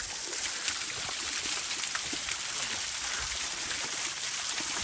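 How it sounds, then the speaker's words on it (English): A small mountain waterfall pours continuously at a stream's source, a steady broadband rush heard up close with no voices in the clip. "I think this is Tundra's first waterfall"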